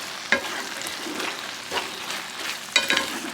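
Spatula scraping the sides of a pan of sizzling onion soup, a steady fry hiss broken by a few sharp scrapes near the start and end.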